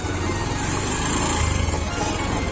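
A motorcycle with a broken silencer runs close by, its engine a loud, raw, continuous rumble with a rough, rapid pulsing that holds steady the whole time.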